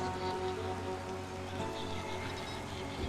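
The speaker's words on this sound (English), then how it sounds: "And now it's raining, of course." Steady rain falls in Stranded: Alien Dawn, a continuous, even patter of drops on surfaces that holds at a constant moderate level from start to finish.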